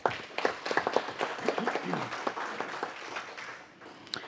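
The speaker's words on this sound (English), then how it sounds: "Everyone give them a round of applause as well." An audience at a council meeting claps in a warm round of applause, a dense patter of hands with a little talk mixed in, moderately close and fading toward the end.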